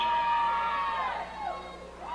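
A capacity crowd at the Niles McKinley Fieldhouse cheers and whoops during a 1982 high school basketball game, loud at first and then fading slightly, with a commentator talking over the noise.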